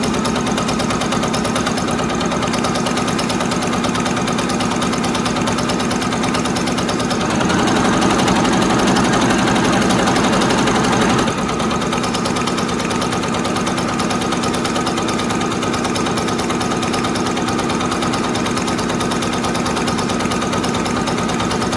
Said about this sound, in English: I'm going to press go, and that's just going to stitch that word